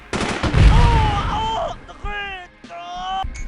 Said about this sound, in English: Which is why we should use the grenade launcher M4 as always.